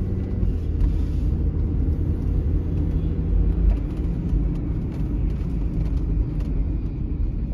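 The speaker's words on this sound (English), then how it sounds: "ignore those noises in the background you hear in my car." Interior road noise from a 1997 car being driven, a steady low engine and tire rumble with faint rattles, continuous and even, with no talking.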